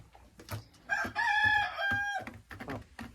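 A hen clucks and squawks nearby in a short burst of drawn-out, rising calls, with softer scattered clucks and rustling around it.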